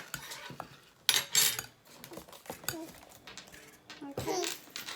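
Muffin or cake mixture spooned into paper cases for a kids' Easter treat, with scattered light clinks and scrapes of a spoon against a bowl, under a child's babbling and an adult's voice nearby.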